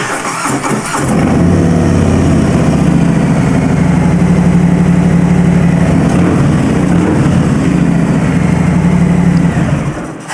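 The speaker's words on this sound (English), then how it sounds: "Now make sure the bike is in neutral and go ahead and start the bike." A Harley-Davidson Softail motorcycle engine cranks briefly, then catches and settles into a loud, steady, throbbing idle close by for several seconds before tapering off, with no talking.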